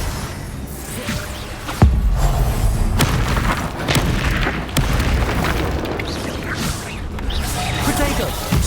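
Hogwarts Legacy's Confringo fire spell lands with a booming blast and whooshing rumble, followed by continuing crackles and smaller bursts in a loud, busy duel.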